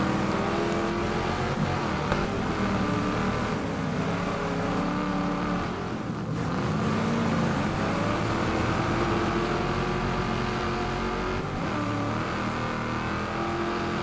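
A very small car racing in Wreckfest 2, its engine a continuous loud, droning roar that holds steady with slight shifts in pitch, with no voices over it.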